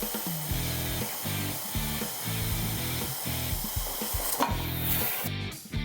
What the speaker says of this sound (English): be using the Spectrum 375 plasma cutter set for 17 amps